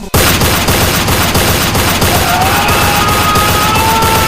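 LMG machine gun fire in the Roblox game Tower Defense X, a loud, dense continuous burst of rapid shots starting abruptly and running unbroken to the end.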